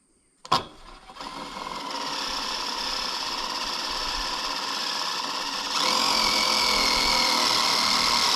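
A screw driven into a hoop house pipe with a power driver, a sharp click then a steady whining motor and grinding that grows louder and brighter near the end, close and continuous with no talk.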